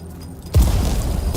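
A sudden deep boom from Dune: Awakening hits after a quiet moment, followed by a rumbling low roar and a second thump at the end.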